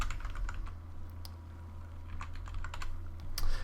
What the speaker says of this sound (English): we could type in longsword